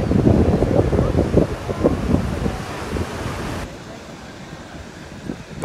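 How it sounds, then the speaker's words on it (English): Steady gusting wind roars across the shore at Long Beach in Nassau County as a storm approaches, with surf noise mixed in; loud and continuous, easing somewhat in the final seconds. "It's starting to get windy and breezy. You can hear the sound."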